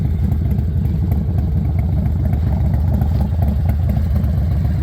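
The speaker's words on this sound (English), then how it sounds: "there she is, just sitting there idling, counting them off" A Harley-Davidson motorcycle engine idles nearby with a loud, steady, lumpy low-pitched thump, its uneven loping beat continuing unbroken with no lifter clatter and no voices.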